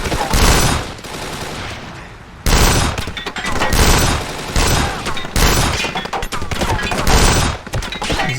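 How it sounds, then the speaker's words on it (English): Sustained automatic gunfire from a machine gun in the shooter game Kane and Lynch 2: Dog Days, loud and dense, in three long bursts broken by brief gaps. "I'm going to use the machine gun because I want to take out that box"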